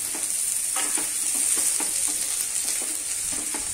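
Green chilli and capsicum cook in a pan for spicy cheese pasta, giving a continuous bright sizzle with a quick run of soft stirring taps over it, close and without talk.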